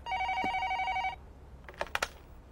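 Telephone in a shopping centre management office ringing with a warbling electronic trill for about a second, then a few quick clicks as the handset is picked up, close and clear, no talking.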